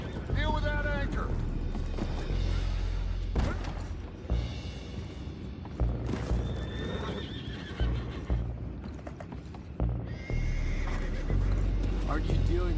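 Horses whinny and neigh amid clip-clopping hooves in Red Dead Redemption 2, with booming game effects and background voices layered throughout.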